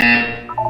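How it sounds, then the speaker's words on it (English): Electronic buzzer from the Portal 2 test chamber, a single loud, harsh, sustained tone that gradually fades. "When you hear the buzzer, look down at the floor"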